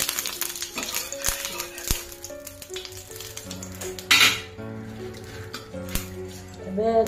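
Chicken frying in hot oil in a pan, a steady sizzle with clinks of a utensil against the pan, while a person talks throughout.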